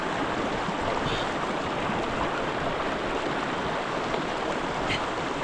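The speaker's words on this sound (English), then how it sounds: "When you came to the river that is flowing like this, you wash your face as you go" Clean river water flows steadily and close by, a continuous broadband rush that stays even throughout with no pauses.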